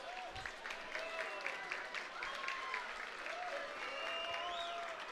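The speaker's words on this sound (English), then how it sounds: "a round of applause for two great fighters" Applause from a fight-night audience for two fighters after a K Series knockout bout, a dense, steady clapping that fills the space throughout.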